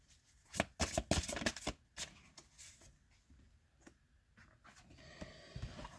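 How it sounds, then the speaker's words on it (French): Tarot cards being shuffled close up, a quick burst of crisp riffling flutters and taps at the start, then softer scattered card slides and rustles, quiet and without talk. "je vais tirer d'autres cartes"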